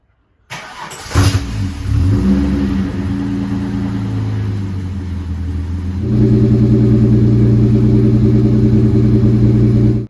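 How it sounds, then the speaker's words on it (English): A car engine cranks and catches, settles into a steady idle, then revs up to a louder, higher sustained drone. "Start her up, then we'll measure the oil"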